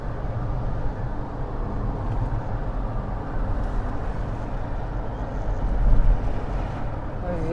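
Strong gusty wind roars across the microphone high in the mountains, a steady broadband rumble that swells briefly near the end, with no clear voices.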